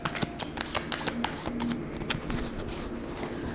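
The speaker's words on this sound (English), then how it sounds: "I'm gonna pull back here for a second and do my shuffling." Tarot cards being shuffled by hand during a divination session. The close, continuous papery rustling and snapping of the cards goes on without a break.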